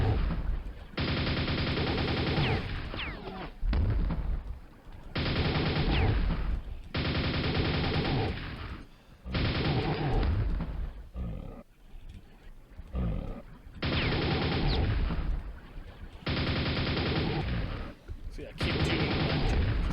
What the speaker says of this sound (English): I'm going to go ahead and use the nail gun